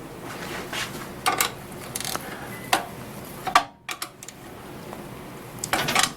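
A wrench works a bolt on the bottom bracket of a Honda EM2500 generator that will not start, giving sparse metallic clicks and clinks with brief scraping between them, close and moderately quiet, with no talking.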